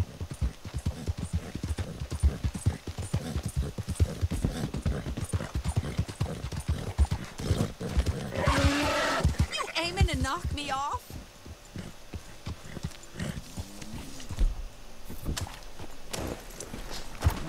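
Horse hooves clip-clop steadily through most of the stretch in Red Dead Redemption II, fairly close and rhythmic, while someone talks over them and a horse briefly whinnies partway through.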